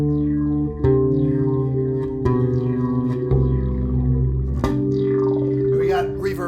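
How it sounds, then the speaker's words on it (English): A bass guitar played through a Terra Echo effect pedal gives sustained, wobbling notes with shimmering, reptilian echo trails, changing pitch roughly every second and swelling into a washy tail at the end; no voice. "here's that Terra Echo kind of sound I got referred to as kind of a reptilian sound"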